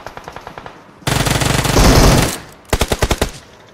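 Automatic gunfire in a battle royale video game: a short rapid burst, then a loud sustained roar of heavy firing, followed by another quick volley of about six evenly spaced shots, close and loud.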